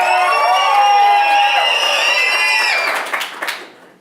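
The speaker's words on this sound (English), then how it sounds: "please by round of applause" Live audience on a main stage cheering, whooping and applauding to vote for a musical, a loud dense roar of shouts that fades into scattered claps.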